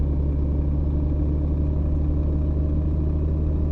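Steady car engine drone and road rumble from the On The Road driving game, a constant low hum with no clear revving, even and moderately loud throughout.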